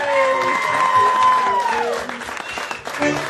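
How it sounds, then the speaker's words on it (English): A festival crowd claps for a polka musician who played trumpet, violin and vocals at the Mohawk Valley Polish Festival. The steady applause rises under lingering musical tones and a voice, loud and close. "how about a big round of applause for Richie Dombrowski."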